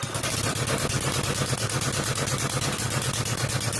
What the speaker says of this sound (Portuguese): Dar a partida e vamos ver o ronco do nosso motor.